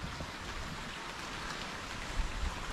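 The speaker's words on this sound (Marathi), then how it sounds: "आणि आज पाऊस आहे, येऊन जाऊन आहे" Steady rain hisses across a cloudy courtyard in the Konkan countryside, a dense, even wash of falling water with no voices.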